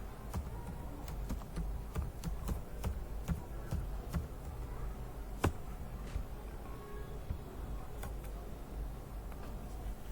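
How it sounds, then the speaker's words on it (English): Rapid typing on a computer keyboard, close and clear, with a steady stream of light key clicks and occasional sharper taps, no voices. "So here we type in office furniture"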